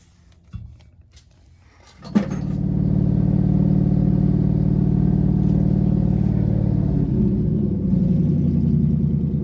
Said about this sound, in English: for having no cats or mufflers or tailpipes, it don't sound too bad